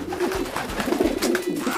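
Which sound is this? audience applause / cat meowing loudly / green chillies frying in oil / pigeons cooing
pigeons cooing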